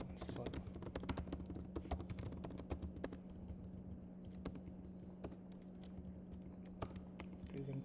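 Rapid, uneven clicking of fingers typing on a computer keyboard, close and dense, with a low steady hum beneath it.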